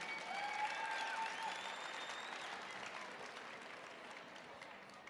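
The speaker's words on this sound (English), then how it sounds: "Let's give them another hand of applause," Audience applause at an official opening event, a dense steady patter of clapping that slowly fades, with faint whistles or cheers early on, heard at low level.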